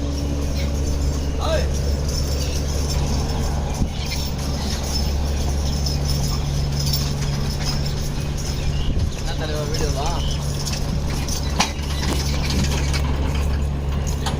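Farm tractors, including a four-wheel-drive John Deere 5310 with a side-shift gearbox, roll into a sugar mill yard, a steady low diesel drone running throughout with faint background voices.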